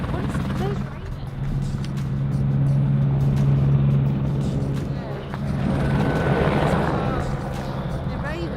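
A helicopter hovers and flies nearby at a remote roadside stop near the Grand Canyon, its steady rotor drone holding throughout, loud and continuous, while people talk over it.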